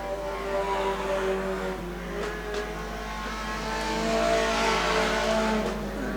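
Junior sedan race cars circle a track, engines droning and revving at a distance in a steady blended roar that swells slightly toward the end, with no speech over it.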